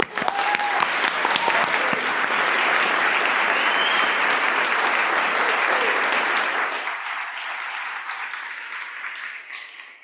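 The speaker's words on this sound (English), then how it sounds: "So let's take a moment to give them all a round of applause." A church congregation applauding at a Sunday service, a full, sustained round of clapping that thins to a quieter patter after about seven seconds and fades out.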